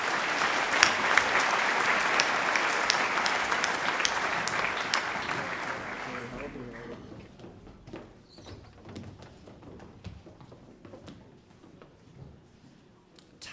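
Applause for graduates at a Year 12 high school graduation ceremony, a dense burst of clapping from a large audience that fades out after about six seconds, leaving scattered claps and quiet hall noise.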